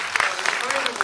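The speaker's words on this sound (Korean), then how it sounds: "두 분께 박수 한번 주십시오" Brief burst of audience applause for two actors at a film stage greeting in a Busan cinema, scattered claps close and fairly loud with voices mixed in.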